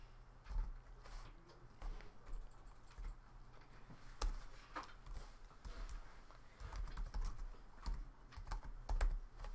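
Typing on a computer keyboard while writing HTML code, with steady, fairly close key clicks in irregular bursts and occasional louder strikes throughout.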